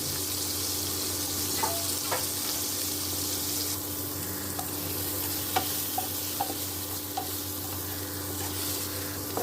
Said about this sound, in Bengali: নুন হলুদ মাখিয়ে ওই তেলেই সামান্য একটু তেল দিলাম, দিয়ে পটলটাকে একটু ফ্রাই করে নেব।